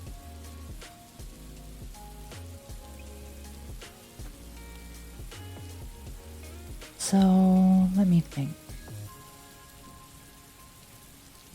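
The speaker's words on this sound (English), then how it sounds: "Can you all hear the rain too now?" Steady rain patters on a surface throughout, a soft continuous hiss under a faint low background, with a brief loud burst of another sound midway and a few quiet spoken words.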